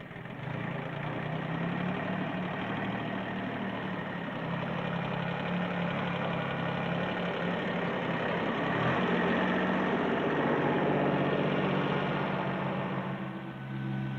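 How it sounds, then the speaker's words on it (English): A 1983 Ford 1210 compact tractor with a 16-horsepower engine runs steadily, a loud, continuous mid-pitched engine drone with a slight knocking texture, heard close and alone for the whole stretch. "popular lightweight compact tractor is the Ford 1210, 16 horsepower with manual 10 forward and 2 reverse gears"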